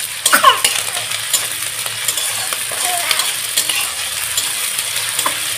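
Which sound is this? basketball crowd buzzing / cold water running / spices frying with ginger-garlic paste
spices frying with ginger-garlic paste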